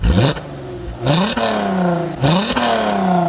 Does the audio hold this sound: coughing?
no